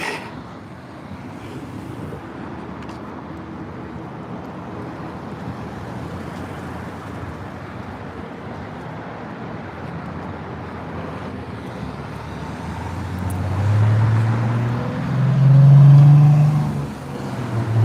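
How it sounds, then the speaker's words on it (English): Cars climb uphill on 51st Street toward the interstate, a steady wash of road noise that swells at the end as a louder vehicle's engine rumbles past nearby. "As the cars continue to climb up 51st Street here, most of them heading for the interstate."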